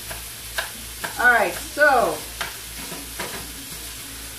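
Four ounces of zucchini fry in a pan, giving a soft steady sizzle broken by close taps and scrapes of stirring, while a voice speaks briefly in the middle.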